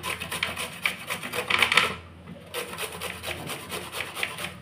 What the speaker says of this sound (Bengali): এবার আমটাকে আমি ঘষে নেব, যেই দিকটা বড় বড় আছে ওই দিকটা দিয়ে করব